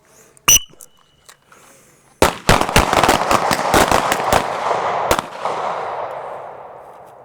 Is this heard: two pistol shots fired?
yes